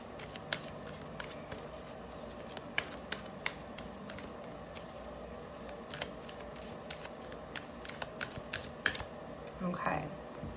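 Oracle cards being shuffled by hand, heard as quiet, irregular papery riffles and taps, fairly close, with a brief voice near the end.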